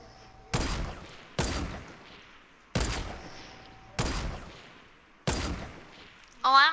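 Gunfire in the shooter game Fortnite: five single heavy shots spaced about a second apart, each loud and close with a decaying echo, separated by near silence, followed by a short burst of voice at the end.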